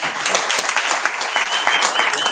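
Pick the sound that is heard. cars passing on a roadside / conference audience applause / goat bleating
conference audience applause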